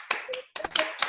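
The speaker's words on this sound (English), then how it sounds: "So let's all clap for her." A few people clap their hands for a woman at a group session, several sharp claps in short uneven bursts, close and fairly quiet, with no talking.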